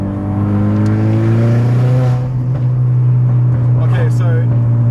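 The loud engine of a turbocharged 250bhp Renault Clio RS hatchback drones at a steady low pitch, then rises as it revs, with a voice talking over it.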